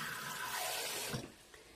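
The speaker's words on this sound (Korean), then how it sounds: "계량컵에 1컵 정도의 분량의 물을 이렇게 부어주세요." Water poured from a measuring cup into a bowl of Korean galbi-jjim marinade made with grated onion and apple juice; a steady close splashing rush that tapers off after about a second, with no talking.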